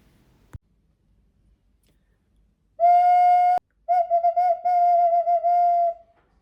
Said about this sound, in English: This is an ocarina in archaic style or simply whistle. And now I'll show you how it sounds.